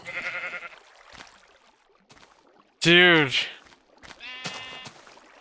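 Sheep bleating in the Minecraft alpha video game: a short bleat under a brief spoken exclamation, then a loud clear bleat and a second bleat moments later, fairly close.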